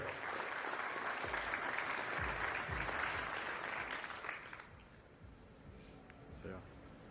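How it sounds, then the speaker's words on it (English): Warm applause from guests at a wedding reception, a dense wash of clapping that holds for about four seconds and then fades to scattered claps. "Please give a big round of applause of Madhugaru friends."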